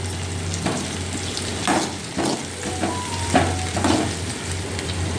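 Onions and curry leaves sizzle steadily in a hot pan for a banana tempering dish, with a few louder crackling bursts and stirring scrapes over a constant frying hiss, close and unaccompanied by speech.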